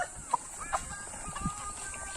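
Hen at a small family chicken farm, a few short clucks scattered through a quiet, faintly noisy yard with a steady high hiss in the background.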